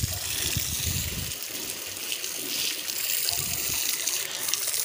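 Water gushes steadily from a new pipe while a buffalo is bathed in a village, a loud continuous hiss and splash with low rumbling splatter, close and unbroken.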